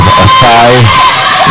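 Crowd at an international netball match between Saint Lucia and Grenada cheering and whooping loudly for a short burst, with a commentator's voice running over it.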